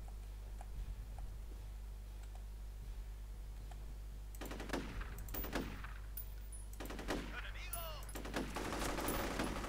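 Several sharp bursts of gunfire in the video game F.E.A.R., coming in quick clusters over a low steady hum, fairly faint overall.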